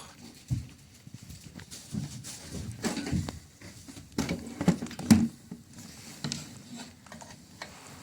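Irregular deer hoof clops and patter on the ground in a video game, moderately loud and close, with occasional mechanical clicks, no voices.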